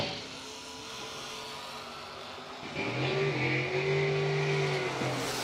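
A Camaro and a Mustang launch side by side at a bracket drag race, engines roaring louder partway through as they accelerate down the strip, with steady rising engine tones over crowd ambience.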